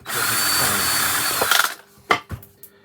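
A power drill bores into wood while a robin bird box is being built, a steady loud whir for about a second and a half that cuts off, followed by a few short knocks and bursts of handling.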